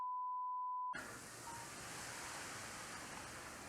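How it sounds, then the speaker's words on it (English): A phone gives one steady electronic beep for just under a second, then a loud, steady rush of hiss-like noise takes over for the rest of the clip. "It's my phone again."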